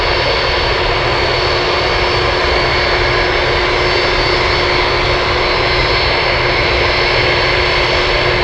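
A Boeing 747 Dreamlifter taxis at Anchorage airport, its jet engines giving a steady, loud, unbroken roar with a constant whine layered over a broad rumble, no voices.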